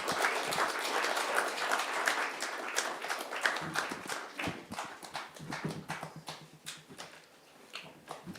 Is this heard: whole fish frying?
no